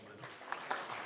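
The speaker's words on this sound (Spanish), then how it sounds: "Un aplauso para él." Brief, faint audience applause at a talk with comic editors, scattered claps forming a soft, steady patter.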